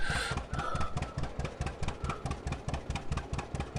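An engine idles close by, with a steady, rhythmic low chugging that pulses evenly throughout and no other sounds.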